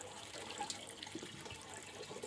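Faint, steady hiss of water running from a tap, with small splashes and drips in a quiet space.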